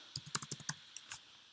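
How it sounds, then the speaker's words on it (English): Close, crisp keystrokes on a computer keyboard in a burst of about six quick taps, followed by a short pause and a couple more clicks, with no talking. "is my typing too annoying?"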